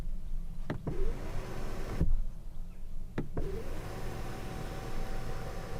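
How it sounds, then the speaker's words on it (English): The electric seat in a Mercedes GLE motors as it reclines, making several short whirring runs broken by clicks and pauses, close up and quiet, with no voices. "I can recline the chair to give me more headroom, and I do it electrically"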